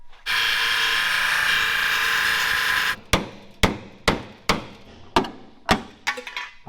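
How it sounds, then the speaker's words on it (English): Spot welds being cut out of a car body panel, a loud continuous grinding whine for about three seconds, then a series of sharp metallic strikes at a steady rhythm, ending in a rapid cluster of hits. "I'm gonna get the rest of these spot welds cut"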